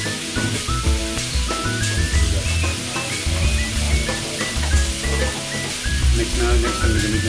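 Shrimp sautéing in a pan with a steady, close sizzle and hiss that runs the whole time, partly covered by melodic background music.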